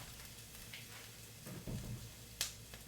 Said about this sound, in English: I'm just sauteing these.